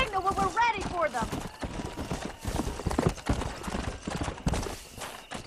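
Horse hooves clip-clop in Red Dead Redemption, a dense run of rapid close hoofbeats from several galloping horses under a voice shouting at the start.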